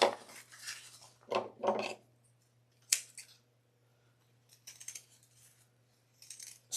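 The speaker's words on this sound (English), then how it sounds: "I even got new scissors. Maybe the problem is me and not the scissors." Scissors snip through thick layered fabric in several crunchy cuts, close up, with quiet gaps between strokes and no speech.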